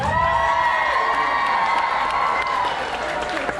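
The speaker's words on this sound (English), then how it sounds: "give a cheer for this brave fellow" A crowd cheers and applauds loudly and steadily at a medieval dinner tournament in Dallas, Texas, after a knight calls out to honor a brave squire, with shouts and whoops rising over the noise.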